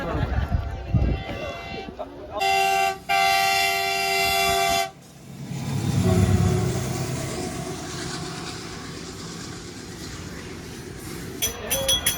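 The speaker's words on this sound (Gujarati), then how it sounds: "આ બાજુ ટ્રેન આવે રહી જોઈ શકો" A loud train horn blares in a sustained blast of a couple of seconds, followed by a low rumbling train passing, with people talking nearby.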